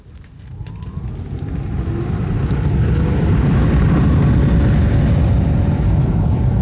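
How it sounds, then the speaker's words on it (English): An electric fan blowing into a burning waste-oil barrel produces a deep, roaring whoosh of flame that swells over the first few seconds, then holds a loud, steady rumble. "Let's put the fan on and see what happens."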